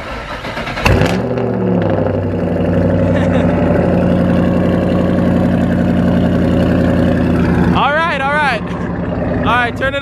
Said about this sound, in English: We're gonna compare the V6 cold start to her three valve.